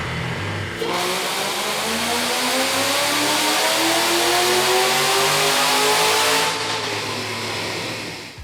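A 2008 Shelby GT500 with a Whipple supercharger revs up in a long, steady pull, pitch climbing for several seconds before dropping off, loud and close with no talk.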